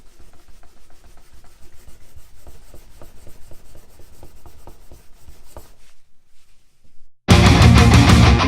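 Rubbing compound worked into a leather knife strop, a rhythmic close scrubbing of quick repeated strokes, then a pause and a sudden loud burst of noise at the end.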